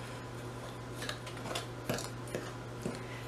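Light brown sugar mixed in a bowl for maple pecan scones: a few soft scraping and tapping strokes against the bowl over a steady low hum, with no talking.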